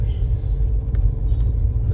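A car's engine labors up a steep snowy mountain road on the way from Shimla toward Narkhanda, a steady low rumble running continuously without letup and no voices over it.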